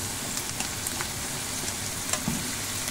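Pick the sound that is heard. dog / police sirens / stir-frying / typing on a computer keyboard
stir-frying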